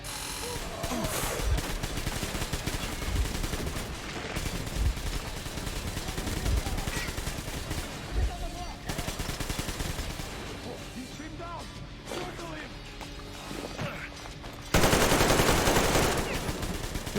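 Sustained automatic gunfire from the post-apocalyptic shooter game Metro Exodus, dense bursts and rattling shots running continuously near and loud, with a harsher, brighter blast of fire near the end.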